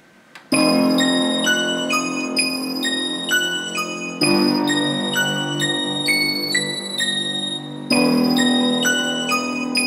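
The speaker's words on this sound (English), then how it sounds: "A studio piano. Grab that and layer that with the bell." A studio piano layered with a bell patch in Reason plays repeated chords with bright, ringing, bell-like overtones, loud and sustained, restarting in three phrases with no talk.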